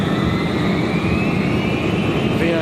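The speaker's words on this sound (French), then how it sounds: "Lentement, l'avion prend de la vitesse et tout paraît normal." A Boeing jet airliner accelerates down the runway for takeoff, its engines giving a loud, steady roar with a faint rising whine, heard close and continuous with no talk.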